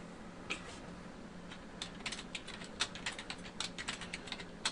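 Root password typed on a computer keyboard during a LAMP server install on Ubuntu Desktop 12.04, soft close key taps in an irregular flurry that thickens toward the end, no voices.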